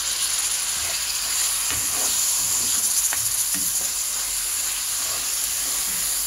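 Tomato and green chili hit a hot pan with softened onions, raising a steady bright sizzle and steamy hiss that holds loud and even throughout, with a few faint clicks of utensils.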